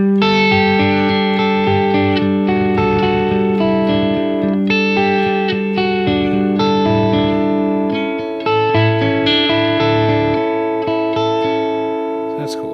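A sustained electric guitar chord through a Quad Cortex spring reverb rings out with a splashy, spring-like tail, notes changing every couple of seconds in a steady, loud wash.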